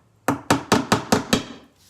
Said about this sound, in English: So I'm going to nail it in